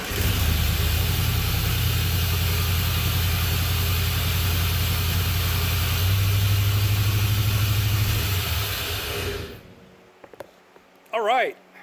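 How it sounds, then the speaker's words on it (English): A Chevrolet Camaro engine runs at a loud, steady idle close by, shifting slightly in pitch partway through before cutting off, followed by brief quieter sounds. "as you just heard, the engine did start again"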